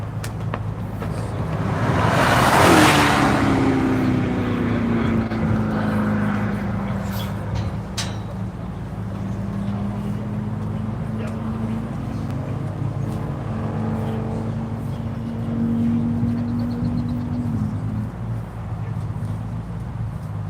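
David Carr's Daytona race car runs on track at NCM during One Lap of America, its engine loud and close at first as it passes, then a long falling drone that drifts away and lingers faintly in the distance.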